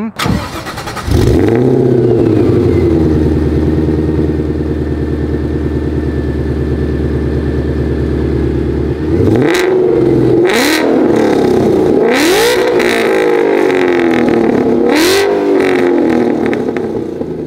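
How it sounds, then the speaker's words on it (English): A boosted first-generation Coyote V8 car engine with aftermarket axle-back exhaust starts, idles with a deep, rumbling exhaust note, then revs sharply several times in loud bursts, close by. "Do y'all want to hear what it sounds like?"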